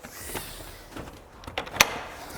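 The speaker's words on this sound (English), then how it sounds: "So the front door of this house is French door, okay? So you open the door." French front door of a small modern newly built house swinging open, giving a few soft creaks and knocks that end in one sharp latch click, with no other sound.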